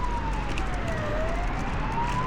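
A police car siren wails past a roadside bus stop, its tone sliding steadily over constant traffic noise, moderately distant.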